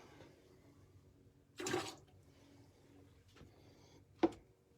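A brief splash of AeroPress rinse water being poured out, then a quiet stretch and a short sharp clunk, in a quiet room.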